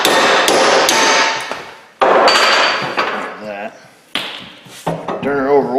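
Several sharp metallic hammer strikes close by, driving a U-joint into a drive shaft, in irregular bursts, with voices talking between and over them.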